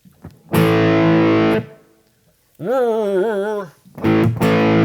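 Bursts of electric guitar through an inexpensive overdrive pedal, crunchy distorted chords and a bent lead phrase, separated by short silences.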